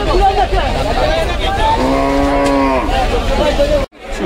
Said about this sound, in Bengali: এই পাগলা গরু পাগলামি করতেছে